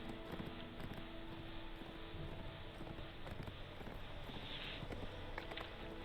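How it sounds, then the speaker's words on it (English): Horse hooves clip-clop at a steady ridden pace in a fantasy role-playing game, a continuous rhythmic patter running under background game ambience and music. "So I'm going to bring out the horse just to get this there a little bit faster."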